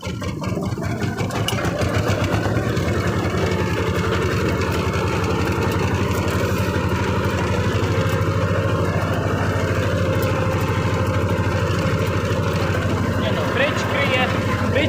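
A T-25 tractor engine runs loud and steady at close range while driving forward disking stubble in a field, its deep continuous drone unbroken throughout, with someone talking over it.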